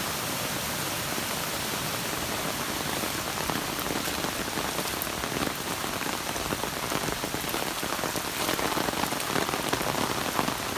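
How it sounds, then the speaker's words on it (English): Heavy rain pours steadily onto surfaces outdoors in a backyard during flooding, a dense, even hiss with scattered drop patter throughout, loud and close with no pauses. "It is raining so hard."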